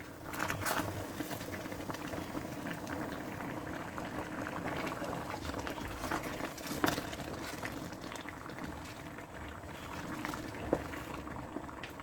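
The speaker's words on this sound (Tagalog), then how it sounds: "kumukulo na siya." A pot of liquid for cooking suman boils steadily, with continuous bubbling and occasional louder pops, close by and without any talking.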